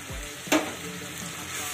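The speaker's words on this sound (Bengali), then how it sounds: "রসুনটাকেও আমি পেঁয়াজের সাথে একটু ভেজে নেব যতক্ষণ না পর্যন্ত রসুনের কাঁচা গন্ধটা চলে যায়।" Garlic paste frying with softened onions in a pan, with a steady low sizzle broken by a short burst of stirring scrape midway, close and fairly quiet.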